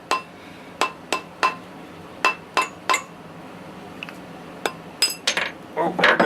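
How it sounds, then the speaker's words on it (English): Sharp, ringing metallic taps from a mallet on a mandrel, tapping a coin ring off it, strike one at a time at an irregular pace, about a dozen in all, close and fairly loud. "Just take a hammer or a mallet, rubber mallet, whatever."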